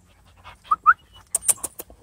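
An Airedale terrier puppy in a backyard pants in a quick burst of short, close breaths near the end, after a few faint snuffles and squeaks.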